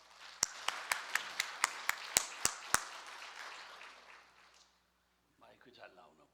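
A church congregation claps for an elder about to give testimony at a fasting prayer retreat, with about ten sharp, evenly spaced claps over a wash of scattered hand-clapping that fades out, followed by a brief pause and quiet talk.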